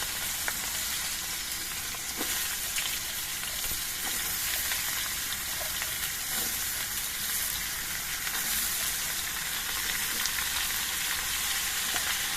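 Vegetables fry in hot oil with slit green chillies, giving a steady, close sizzle and crackle with occasional stirring scrapes and no talk.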